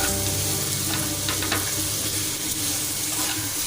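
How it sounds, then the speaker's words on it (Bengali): Boiled potatoes and chicken liver frying with spices in a pan, giving a loud, constant sizzle close by, with occasional light stirring scrapes and no talk. "এখন মশলা দিয়ে এগুলোর সঙ্গে একটু জাস্ট ভেজে নিব।"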